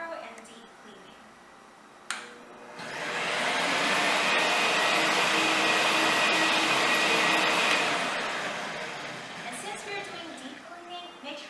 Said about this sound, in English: Now set the mode to turbo clean. This will allow for more suction power for thorough and deep cleaning.